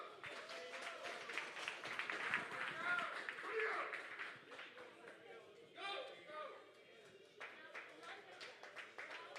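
Crowd at a Knuckles Up qualifier tournament clapping and cheering, a ragged burst of applause mixed with shouts and a voice talking over it, swelling early and then tapering into scattered claps.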